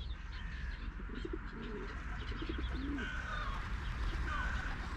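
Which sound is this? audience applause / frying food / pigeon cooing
pigeon cooing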